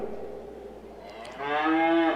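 Cattle lowing at a 4-H beef show, starting as a soft murmur before one loud, drawn-out moo rises nearby and carries to the end.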